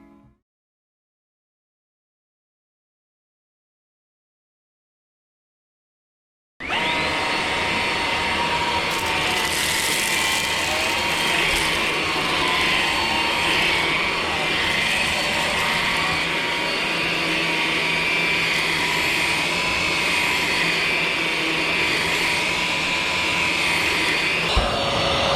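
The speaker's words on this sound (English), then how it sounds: "Just a few examples of the vacuum in action." A Ryobi One 18V cordless stick vacuum cleaner starts after several seconds of silence, then runs with a steady, loud whine and airflow roar that holds constant to the end.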